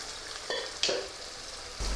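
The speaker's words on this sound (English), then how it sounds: "And now we need to saute till it becomes nice and brown." Onions and mutton chops sauté in a hot pan, giving a steady bright sizzle with a few louder stirring scrapes and spatters partway through, close and alone without talk.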